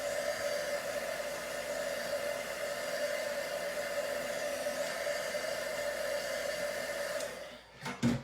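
A heat tool blows steadily to dry watercolor stamping ink on a card, a constant close whirring hiss that holds for several seconds before cutting off with a few faint handling knocks.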